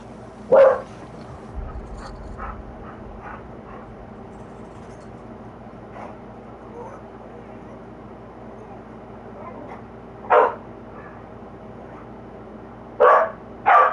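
A dog barks in God of War Ragnarök, in the mining land of Svartalfheim, with a loud sharp bark near the start and three more late in the clip over a low ambient drone.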